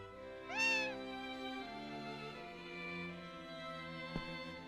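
A cat in the video game Story of Seasons: A Wonderful Life gives one clear, rising-then-falling meow, followed by a softer trailing tone and a brief click, with no talk.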